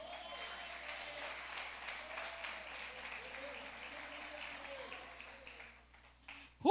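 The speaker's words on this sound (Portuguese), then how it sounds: "Então aplauda o Senhor." A women's church congregation applauds steadily through a hall, sustained mid-level clapping with faint voices mixed in, fading out near the end.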